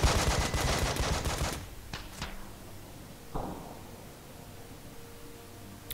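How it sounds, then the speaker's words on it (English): In Breach & Clear, a burst of rapid gunfire rattles for about a second and a half, then a few scattered sharp bangs follow, with the last pop fainter and softer before quiet. "Flashbang out."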